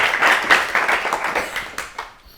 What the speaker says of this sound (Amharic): እሺ አጨብጭቡላት።